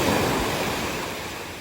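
Steady rushing wash of Mediterranean Sea waves breaking on a beach, loud and continuous, slowly easing off toward the end with no voices.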